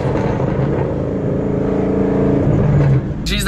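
A loud, close Ford Mustang engine idles with a deep throaty burble, then revs up sharply before dropping off near the end.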